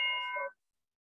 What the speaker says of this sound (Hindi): किसके घर मंदिर में घंटी बज रही है भाई?